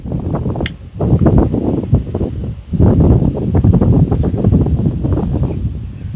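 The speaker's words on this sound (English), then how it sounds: "Woo-wee, windy day." Strong wind gusts outdoors at a wildlife management area, roaring and buffeting loudly against the microphone in uneven surges with a brief lull near the start.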